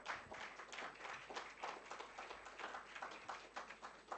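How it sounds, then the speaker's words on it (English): Listeners at a public lecture clap for the speaker, a quiet, distant patter of hands with uneven pulses of claps rising and falling, heard faintly without any voices. "I wanted to have a big round of applause for Professor Howard."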